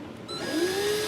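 A handheld power drill spins up with a 5.56/.223 cartridge case wobbling in its chuck, its motor whine rising in pitch and holding steady at moderate, close volume.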